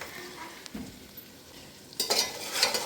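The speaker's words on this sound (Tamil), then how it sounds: "நல்லா இது ஃப்ரை ஆகுற வரையும் வெயிட் பண்ணணும்" Biryani frying in a pot and stirred with a large ladle, a soft background sizzle broken by a few scrapes and clanks of the ladle, growing louder near the end.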